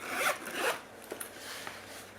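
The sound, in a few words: zipper on a case being opened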